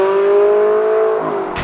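A Ferrari 360 Modena, built between 1999 and 2005, holds a loud, smooth steady engine tone close by that dips slightly near the end, with a brief burst of noise at the very end.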